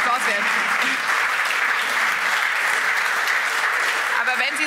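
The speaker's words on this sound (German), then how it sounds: "Das ist ein Applaus wert." Studio audience in a German television talk show giving loud, sustained applause, a thick even wash of many hands clapping with faint voices mixed in.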